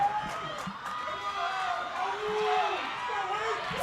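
At a girls lacrosse semifinal, the Wilton crowd keeps up a loud, sustained roar of cheering with rising and falling shouts, while an announcer talks over it.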